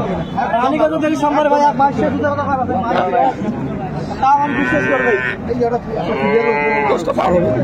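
Dairy cows and calves at a busy rural cattle market in Dinajpur, mooing loudly in two long drawn-out calls near the end, heard over a steady babble of crowd voices.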